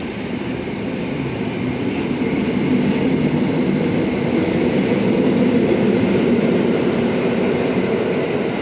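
Steady, loud rumble and hiss from inside a moving train carriage in Poland, continuous throughout with no voices.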